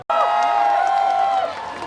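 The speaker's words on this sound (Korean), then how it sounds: "큰 박수 부탁드립니다" A large crowd at an outdoor festival concert in Jangseong cheers and claps loudly after a sudden start, a steady mass of applause that eases slightly near the end.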